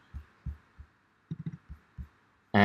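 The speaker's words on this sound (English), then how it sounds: "standard 909 kit that I've loaded from the drum sounds that come with Ableton" An Ableton 909 drum kit plays a simple sparse MIDI pattern of soft low kick-like thumps, about ten hits at uneven spacing, followed by a sudden loud bright burst at the end.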